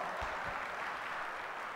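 Faint, distant audience applause at a national project management conference interview session, a steady wash of clapping held at low level throughout.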